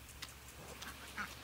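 Ducks quack a few times at a farmyard feeding time, with chickens and cats roaming nearby; the short, faint calls come in separate bursts against a quiet outdoor background.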